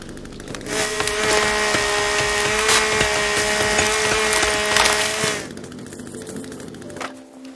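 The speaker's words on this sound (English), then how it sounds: "Let's try our chainsaw," A chainsaw in the survival game The Forest cuts through trees, a loud steady engine whine running for about five seconds with a rising start, then cutting off into quieter forest ambience.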